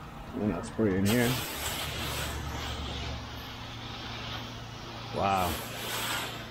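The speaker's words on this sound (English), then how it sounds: "And I'll spray in here." A pressure washer sprays house siding during a house wash, a continuous hissing spray with a low engine hum underneath, interrupted by short bursts of voice.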